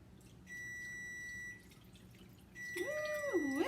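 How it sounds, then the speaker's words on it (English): A kitchen stove timer sounds two sustained electronic beeps, each about a second long, faint against a quiet room with a pot boiling nearby. A voice gives a sliding whoop at the end. "Did y'all hear the timer go off on my stove?"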